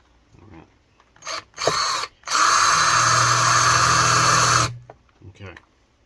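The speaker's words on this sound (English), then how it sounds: "I'll let you see me do a little bit of drilling here real quick" A power drill bores into metal during fabrication work on a Plymouth 318, with two short bursts and then a sustained loud whine of about two and a half seconds, ending with quieter handling sounds.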